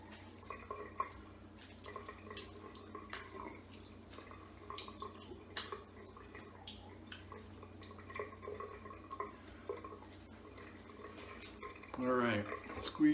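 Water running and dripping while someone rinses off after a shave, faint close splashes and trickles with light clinks, and a louder rush near the end.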